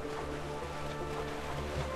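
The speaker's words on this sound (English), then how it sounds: "This is a big waterfall." A big waterfall in the video game Owlboy gives off a steady, dense rush of water that holds an even loudness for the whole moment, with no voices.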